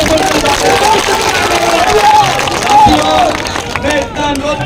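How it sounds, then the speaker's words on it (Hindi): Large outdoor crowd at a Congress party political rally in Sagar cheering and clapping at length, broad steady noise with shouts and whistles, a voice over a loudspeaker heard above it. "जरा जोरदार तालियों से"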